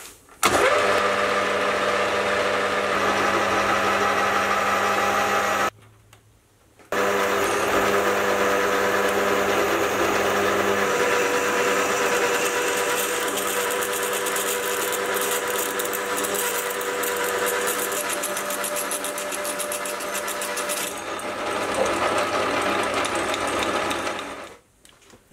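Steady mechanical whirring and grinding runs continuously for most of the clip, with one brief pause near the start, as a drill bores a hole all the way through a metal bar.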